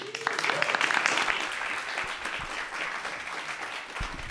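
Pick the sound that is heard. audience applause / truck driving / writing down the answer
audience applause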